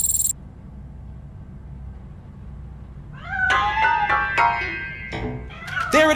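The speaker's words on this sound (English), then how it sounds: "That cat must be hiding inside. Let me lure it out." In Robocop Rogue City, a cat gives several drawn-out meows in close succession after a brief quiet stretch, loud and near against a low game ambience, with no talk over them.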